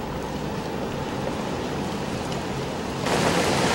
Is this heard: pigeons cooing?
no